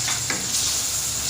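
Ground spinach purée stirred into a sizzling masala fried in oil, for aloo palak; a steady close frying hiss with soft stirring scrapes running continuously, no talk.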